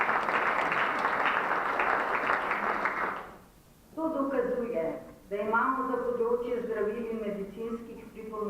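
At a professional conference on safe medicine use, a room full of people claps steadily for a few seconds, then the applause fades and a speaker resumes talking alone.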